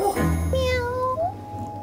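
A Siamese cat at an adoption shelter gives one close, drawn-out meow that bends upward in pitch near the end.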